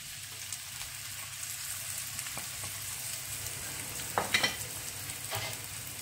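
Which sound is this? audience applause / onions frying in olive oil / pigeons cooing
onions frying in olive oil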